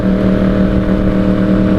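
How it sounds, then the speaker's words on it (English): Honda CBR600RR sport motorcycle idling or holding steady revs close to the microphone, a loud continuous exhaust drone with a steady low hum and no talking. "That's the best sounding exhaust, I think, for this Honda"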